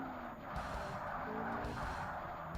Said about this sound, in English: Definitely not meant to power slide around there, but that is what I'm doing